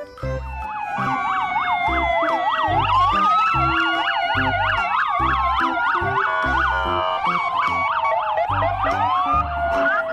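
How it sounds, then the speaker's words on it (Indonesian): A toy police car sounds an electronic siren: rapid warbling whoops layered with a wailing tone, loud and close, cycling continuously over a thumping beat-like pulse with no talking. "Mobil polisi."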